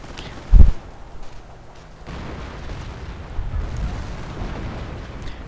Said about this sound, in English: And that artillery is still not doing much.